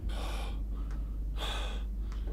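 Heavy, rasping breaths in two loud bursts with a pause between, close and forceful, over a steady low hum, in the video game Amnesia: A Machine for Pigs.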